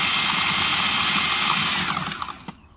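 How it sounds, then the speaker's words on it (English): A blender whirs loudly while finely chopping carrots in an off-grid tent kitchen, a steady high motor whine that winds down and stops near the end. "the reason I'm making it fine in the blender is because carrots can take quite long to get soft"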